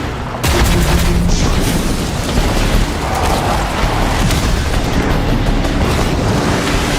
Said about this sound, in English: Don't forget the Hellfire Mortar!